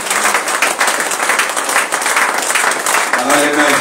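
Church congregation applauding at a service, a loud, dense wash of clapping that runs steadily throughout, with a voice speaking over it.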